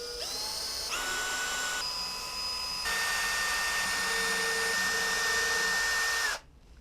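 A power drill boring pilot holes into a guitar headstock for tuning machines whines at a high pitch, rising in speed and shifting tone a few times before cutting off abruptly; close and alone.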